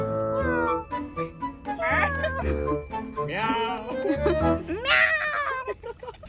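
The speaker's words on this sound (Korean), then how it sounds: "그냥 고양이 소리 내." A cat meows repeatedly outdoors at night in a city, with close, clear, rising and falling calls in quick succession over a low background hum.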